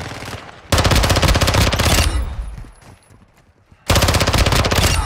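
Rapid machine gun bursts in a video game, loud and close, firing in two long sustained volleys separated by a brief quieter pause.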